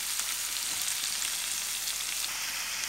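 Onion and vegetables fry in a pan for stuffed couscous, giving a close, even crackle and hiss that holds steady for a few seconds with faint stirring movement and no talking.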